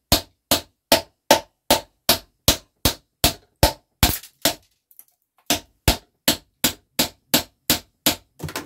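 A hammer taps steadily on a piece of scrap metal to knock a part loose, striking a long run of sharp, evenly spaced metallic blows that stop for about a second, then resume at the same pace.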